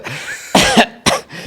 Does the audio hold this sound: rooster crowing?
no